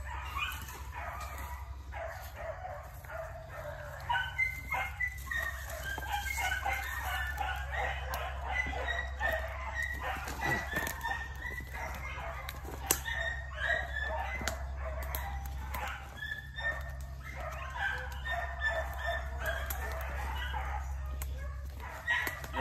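Four-month-old beagle puppies bay and yip continuously while running a rabbit outdoors at night, their overlapping cries fairly distant and steady under a low background hum.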